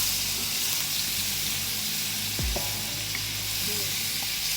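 Shrimp and mixed seafood sizzle steadily in a pan over medium heat while being stir-fried Thai style, a continuous close frying hiss with a brief scrape of the spatula partway through.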